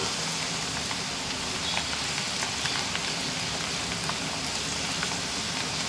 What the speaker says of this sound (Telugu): కొంచెం కొంచెం వేసుకుంటే బాగా క్రిస్పీగా బాగా వేగుతాయి